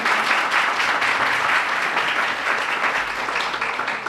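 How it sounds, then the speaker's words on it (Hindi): An audience at a naatiya mushaira claps in a steady, dense round of applause that holds evenly for a few seconds. "एक तालियां बजा देते हैं।"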